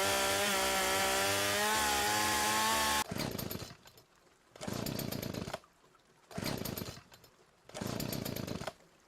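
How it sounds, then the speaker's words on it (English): Chainsaw working at a junkyard, starting at a steady high roar, then cutting out and revving again in three separate loud bursts with short quiet pauses between, close by. "Now the chainsaw's out of gas too."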